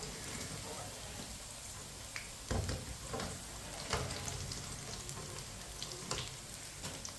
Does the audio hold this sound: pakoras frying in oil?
yes